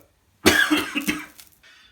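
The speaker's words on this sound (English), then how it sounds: "Getting spice blend coughs." A single harsh cough, close and fairly loud, caught from spice blend while rubbing pork for a foil pan in a hot home kitchen.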